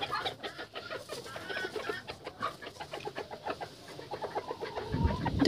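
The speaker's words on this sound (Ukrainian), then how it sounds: "Диви, ну що вони роблять ці півні тут" Three young roosters and a hen on a farm cluck and chatter close by in a busy, uneven stream of short calls, with a rustling burst near the end.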